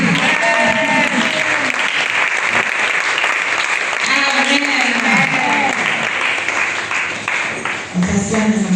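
A church congregation claps and cheers in praise of the Lord, loud sustained applause with voices calling out and singing over the top throughout.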